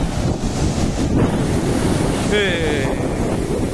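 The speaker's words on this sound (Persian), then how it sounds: "خیلی موج سنگین" Heavy sea waves pound a rocky shore at Chabahar, a dense continuous roar of surf with strong wind buffeting the microphone and a brief high squeal partway through.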